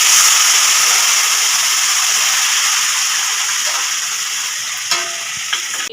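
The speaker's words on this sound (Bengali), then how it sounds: "এবার আমি কচু শাকটা ছেড়ে দেব।" Taro leaves hitting hot oil with garlic tempering in a pan, a loud close steady sizzle that slowly eases, with a couple of sharp clinks of a utensil near the end; no talking.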